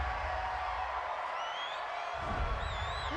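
A home crowd at an NFL game between the Jacksonville Jaguars and Miami Dolphins cheers and whoops in a broad, steady stadium roar, with a few higher shouts rising near the end.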